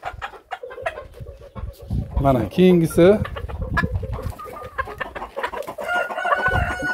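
Farmyard chickens cluck busily close by while a rooster lets out a loud crow in the middle, with a voice speaking briefly over the flock.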